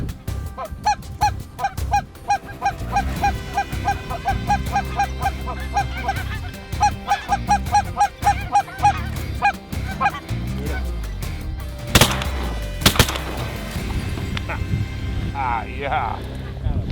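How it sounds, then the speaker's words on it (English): Cackling geese in Cold Bay, Alaska honk in rapid, repeated calls from a flock close by, dense and rhythmic at first then thinning out, with some wind or handling noise near the end. "We get the smallest goose, smallest cackler."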